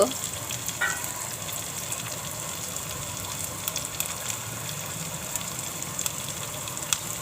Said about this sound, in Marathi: कढीपत्ता टाकला आहे हिंग